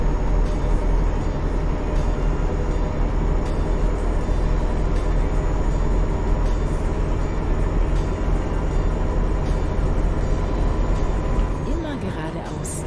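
A train passes in the video game Euro Truck Simulator 2, a loud, continuous rumbling roar with a steady rolling texture that fades slightly at the end, with someone talking over it.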